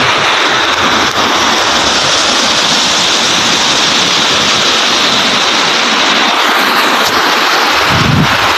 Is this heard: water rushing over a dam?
yes